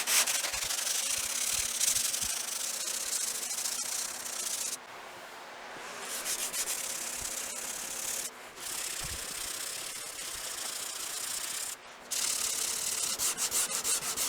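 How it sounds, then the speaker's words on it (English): Hand sanding a car door with 80-grit paper on a sanding block: a close, steady rasping scrape in continuous strokes, broken by a few short pauses, with no talking. "Now I'm going to use some 80 grit on a block"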